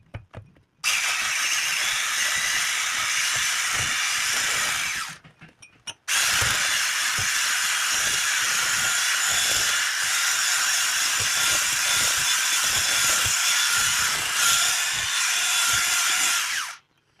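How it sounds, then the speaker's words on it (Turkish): Cake batter with vanilla is beaten with an electric mixer, a loud steady whirring motor running in two long bursts with a brief stop between them. "Şimdi güzelce çırpıyoruz."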